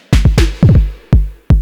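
An Elektron Syntakt drum machine plays a step with locked tuning, decay and overdrive: five punchy, distorted percussive hits, the first ones quick in succession, then two more spaced apart, each with a sharp attack and a fast falling tail.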